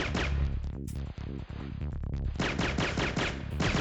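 Rapid bursts of HK5 gunfire in the Syphon Filter video game crack out in a dense, repeating rhythm, loud and close, mixed with game music and effects, with brief pauses between volleys.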